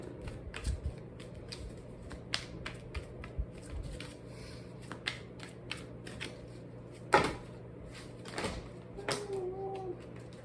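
Tarot cards being shuffled and gathered back up, with quick papery riffles and soft slaps repeating through the clip, followed by a few sharper taps near the end, all close and fairly quiet with no talking.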